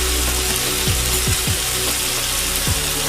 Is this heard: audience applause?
no